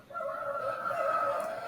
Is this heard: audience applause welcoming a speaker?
no